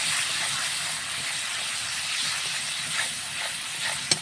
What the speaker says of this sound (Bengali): সুন্দরভাবে মশলাটাকে কষিয়ে নিচ্ছি